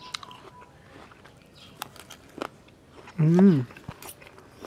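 Crunchy apple salad being bitten and chewed alongside fried quail, a few faint crisp bites and chews close up, followed by a short appreciative hum from the eater.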